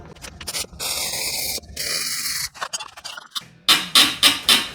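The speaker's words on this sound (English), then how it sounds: "See if I can get it hot enough with a little weld action." Welder arcing on a stuck, crusty tie rod of a Kia Sportage with voltage turned all the way up makes loud crackling sizzle in bursts and gaps, ending with four sharp rhythmic hissing pulses.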